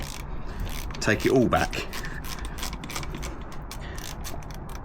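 Socket ratchet clicking as guard bolts come off a Ducati Multistrada during chain and sprocket work, a steady run of close mechanical ratcheting with a brief spoken phrase partway through.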